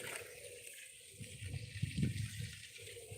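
Water runs and splashes softly while sweet potato plants are watered, faint and uneven, with a low gurgling flow swelling toward the middle.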